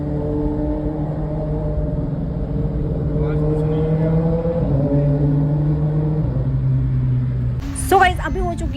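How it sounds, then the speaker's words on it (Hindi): Motorbike engine revved on a road, a steady droning rumble with shifting pitch that holds close and loud for several seconds before a brief louder burst near the end. "अपनी बाइक की आवाज़ कर करके हमें बार बार दिखा रहा था"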